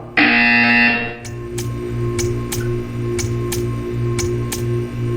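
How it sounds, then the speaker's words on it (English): A loud harsh buzzer in the video game Portal 2 blares for about a second, followed by steady ticking clicks over a low humming background. "You will hear a buzzer."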